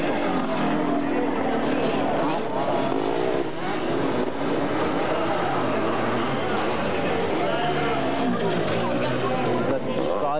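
Four-stroke KTM off-road motorcycle engines race through woodland at a 24-hour all-terrain endurance event in Ploubalay, Brittany, 1987, a steady loud engine roar under continuous commentary.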